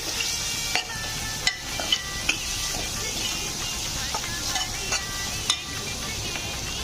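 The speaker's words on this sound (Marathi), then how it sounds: "मसाले छान परतून घ्यायचे." Spices frying in oil with softened onion and tomato for a rajma curry, a steady close sizzle with sharp clicks and scrapes of a spoon stirring against the pan.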